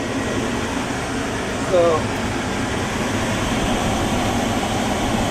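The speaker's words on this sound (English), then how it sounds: "And then we've got the patient air conditioning and heat, which works like a turbo." Patient air conditioning and heat blower in a 2005 Ford E-450 ambulance, running on high with a steady, dense broadband whoosh close by, with a single brief spoken word over it.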